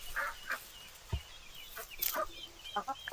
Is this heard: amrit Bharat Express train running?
no